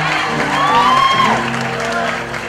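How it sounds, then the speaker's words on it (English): Audience applause after a speaker's talk, loud clapping and crowd noise running under a voice speaking over it. "Let's give him a round of applause."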